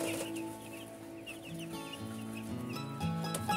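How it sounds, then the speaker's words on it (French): A brood of four-day-old chicks in a brooder peep and cheep continuously, high overlapping chirps close by with soft clucking tones, no talking. "Fait que hier, je suis allée chercher 20 petits poussins."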